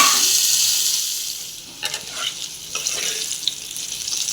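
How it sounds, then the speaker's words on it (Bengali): Potatoes fry in hot oil with bay leaf and cumin, giving a steady bright sizzle with occasional stirring clinks and scrapes close by. "এবার আমি আলুগুলোকে ভালো করে ভেজে তুলে নেব"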